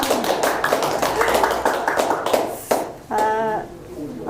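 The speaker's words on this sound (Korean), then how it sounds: "박수 쳐주세요" Audience clapping at a Goyang community policy forum on resident autonomy, a steady patter of hands filling the room for a few seconds before a voice begins speaking near the end.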